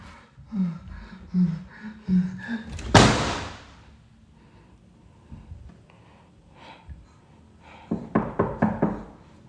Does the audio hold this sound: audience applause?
no